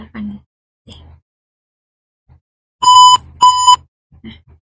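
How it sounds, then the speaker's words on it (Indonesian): A buzzer in a simulated DHT22 temperature sensor circuit with LED indicators sounds two loud, tonal electronic beeps in quick succession, framed by brief soft clicks and near-silence. "mendapatkan indikasi visual dan suara melalui LED dan buzzer sesuai dengan kondisi suhu yang terdeteksi"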